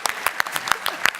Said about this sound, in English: One more round of applause is fine by me.